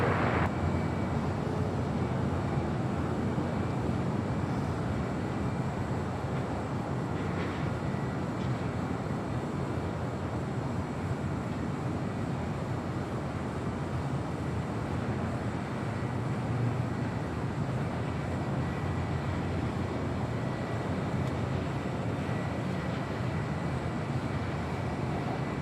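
A FedEx heavy jet lands on runway 25 left at Los Angeles International Airport, its engines giving a constant, broad roar that holds steady and loud throughout with no voices over it.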